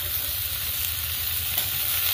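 Taro and potato frying in oil in a pan, a dense, steady hiss of sizzling oil that stays constant and close throughout.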